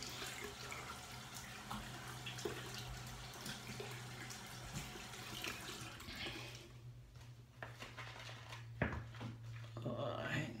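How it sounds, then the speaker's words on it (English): Tap water runs steadily during a rinse-off after lathering a shaving soap, a continuous moderate hiss with faint splashes and small knocks toward the end. "So let me rinse off."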